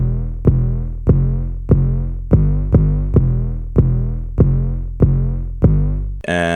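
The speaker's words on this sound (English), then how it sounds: "And then next to that we have the 808," A deep 808 bass from a trap beat built in FL Studio booms in nine evenly spaced hits, each with a sharp attack and long decaying tail, loud and up front with nothing else playing.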